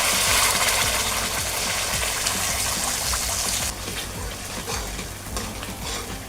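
Ground masala paste hits hot oil in a kadhai while cooking patvadi bhaji, giving a loud, steady sizzle with stirring scrapes that eases slightly partway through, with no talking.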